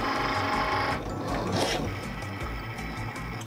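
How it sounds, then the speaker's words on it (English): Cricut cutting machine scoring a mat, a continuous mechanical whirring with rhythmic motor ticks and a brief rising whine partway through, close and steady, without talk. "click the flashing C button to start scoring"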